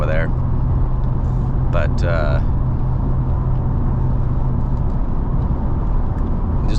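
A 2002 Chevy S-10 Xtreme Blazer with 86,000 miles cruises at 55 mph, giving a steady low road and engine hum inside the cabin, with brief clatter and a short spoken word early on.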